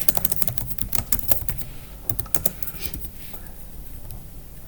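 Rapid bursts of keystrokes on a computer keyboard while writing text in the Vim editor in an Ubuntu terminal, close and clear, with brief pauses between runs of clicks.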